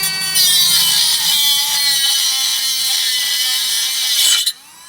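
A power tool trims a heater box for a 1966 Ford Mustang with a loud, steady high-pitched whine up close, running for about four seconds before it cuts off abruptly.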